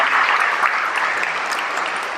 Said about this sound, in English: give Mayor Joe a round of applause.